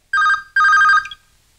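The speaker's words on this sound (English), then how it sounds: "my phone is ringing" A mobile phone rings in two short electronic bursts, bright and tonal with a gap between them, fairly close and loud, then falls silent.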